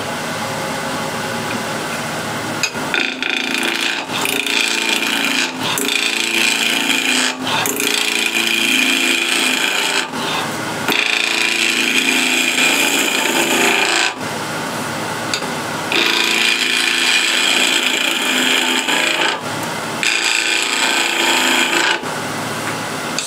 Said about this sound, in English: I'll rough turn this down with 1-inch skew